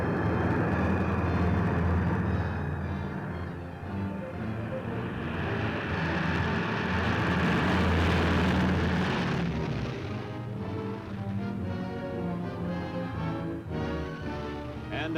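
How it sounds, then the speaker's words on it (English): A formation of Douglas C-124 Globemaster transport planes drones overhead, their piston engines forming a continuous, loud, throbbing roar that holds steady and then shifts in pitch as the aircraft pass. "43 Globemasters throbbing through the sky."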